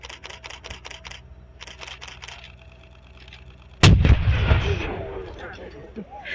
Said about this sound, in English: we'll have 1 round of gunfire, which will now be loaded and fired.